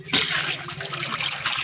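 Water released and flowing, a close rushing splash that starts abruptly and continues steadily, with no talking.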